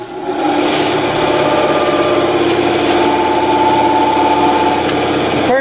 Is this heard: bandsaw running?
yes